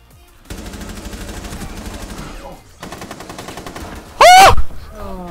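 Light machine gun fire in the Rainbow Six Siege video game: long, rapid bursts of automatic shots with a short pause between them, loud and close, followed by a sudden loud vocal groan near the end.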